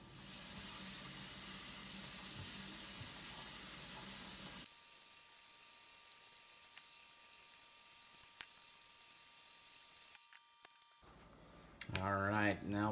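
Jalapeno peppers rinsed under a running kitchen tap, a steady broadband water rush for about five seconds before quieting to a low background with faint handling sounds; a voice speaks near the end.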